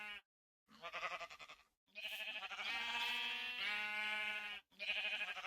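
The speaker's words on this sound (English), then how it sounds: "the sheep eats the grass, it grows its wool back" Minecraft sheep bleat several times in a row, clear and close, with short pauses between the bleats and no talk.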